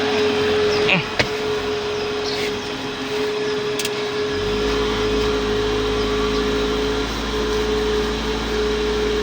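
A car engine idles steadily at close range with the air conditioning switched on; a low constant hum joins in partway through, and a brief click sounds early on, with no talk.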